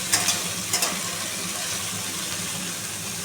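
Pumpkin leaves and potatoes fry in a pan with a constant sizzle, a few sharp scrapes of stirring at the start, then a steady hiss close by.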